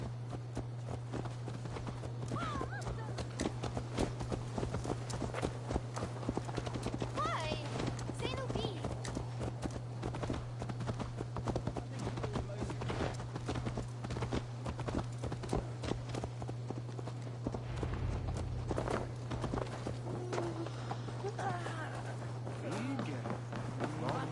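Horse hooves clip-clop in a steady rhythmic gait throughout, with a constant low hum underneath and bits of ambience from the video game Assassin's Creed Valhalla.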